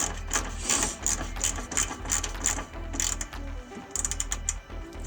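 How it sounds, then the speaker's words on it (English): A ratchet clicks in quick bursts while tightening the plastic-threaded bolts on EK3 facelift car headlights, rapid close pawl ticks in several runs with short pauses between them. "So we will just ratchet that down."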